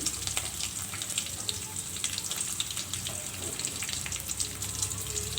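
Curry leaves and green chillies fry in hot oil with cumin seeds, giving a steady, dense sizzle that holds unbroken throughout, with no voices over it.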